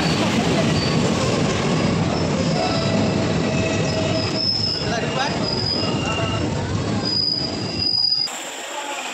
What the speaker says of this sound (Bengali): আর কিছুক্ষণের মধ্যে আমাদের ট্রেন চলে আসবে